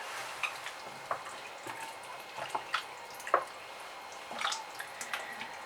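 Herbs being stirred into a beef stew in a pot: quiet, irregular clinks and soft scrapes of a spoon, a handful of sharp taps spread over a few seconds, with a low simmer underneath.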